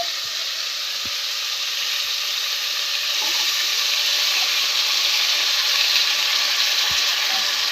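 Washed moong dal and potatoes frying in oil in a pan, a steady even hiss of sizzling that stays loud throughout, with a few faint knocks.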